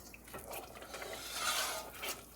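A besan (gram flour) mixture is stirred in a kadhai while making besan barfi without ghee, a steady soft scraping and swishing close by, with light clinks of the pan, and no talking.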